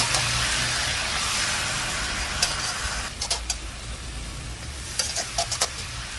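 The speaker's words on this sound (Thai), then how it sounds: "ผัดไปจนกว่าผักโขมจะสุกค่ะ" Spinach stir-fried over high heat with fermented soybean paste gives a constant hissing sizzle, with scattered clacks of a spatula against the pan later on, close and alone.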